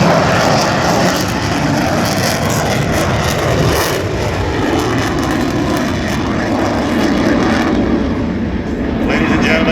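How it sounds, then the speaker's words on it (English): A Super Hornet fighter jet roars overhead at an air show at NAS Oceana, loud and continuous, its broad engine noise swelling and shifting as it passes, with voices under it. "You can hear that jet up there."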